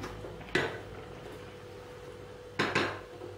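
Metal pot of payesh, a Bengali rice pudding, clanks twice on the stove as it is lifted off, two brief knocks about two seconds apart over a low kitchen hum.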